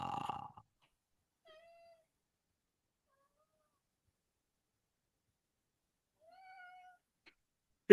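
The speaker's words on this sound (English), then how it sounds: "Just hear these tiny little meows." Two tiny, faint meows from a small kitten, spaced apart by silence, with a brief rustle at the start.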